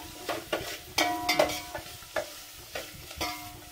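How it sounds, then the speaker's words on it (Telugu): Curry leaves fry in oil for Telangana-style Bagara rice, with a steady sizzle broken by repeated rhythmic stirring scrapes and clinks of a spoon against the pot. "ఇగో కరివేపాకు ప్రతి దాంట్లో వేస్తాం బగారా దాంట్లో. ఇది ఫ్రై కానీ మంచిగా ఫ్రై కావాలి"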